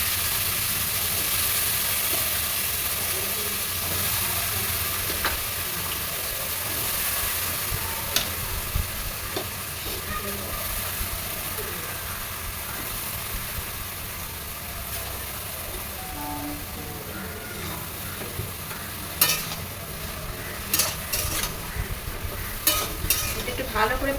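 Prawns and spring onions frying in a pan while being stirred, with a steady sizzle throughout and occasional scraping and clinking of the stirring utensil growing busier toward the end.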